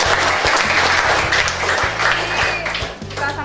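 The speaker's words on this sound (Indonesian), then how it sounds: "kita beri aplaus untuk Gracia" Classroom applause for a student named Gracia during a high school geography lesson: a short burst of many hands clapping close by, steady and dense over a low room hum, fading slightly at the end.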